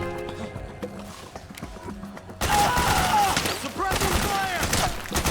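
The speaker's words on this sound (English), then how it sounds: "Suppressing fire!" Gunfire breaks out in the stealth action game Metal Gear Solid 4, starting as scattered shots under combat chatter, then becoming a loud, sustained barrage of automatic fire and explosions mixed with shouting voices.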